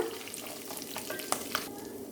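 Amla pulihora tempering: green chillies and spices frying in hot oil, a steady close sizzle with light stirring scrapes and a couple of sharp clinks, no voices.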